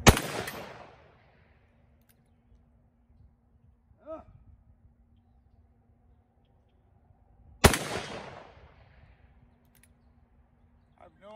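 Two loud, sharp .480 Ruger revolver gunshots, one at the start and another several seconds later, each followed by a ringing decay, with near silence and a faint brief sound between them.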